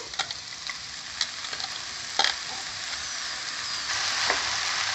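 Potatoes and fenugreek leaves fry in a pan, a steady close sizzle hissing throughout, broken by a few soft scrapes and taps as the mixture is stirred.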